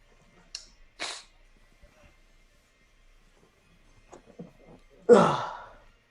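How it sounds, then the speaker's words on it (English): Allergy sneezes burst out twice near the start and once more loudly toward the end, separated by quiet breaths and small sniffs in a still room. "You think you're done sneezing and then it just comes right back."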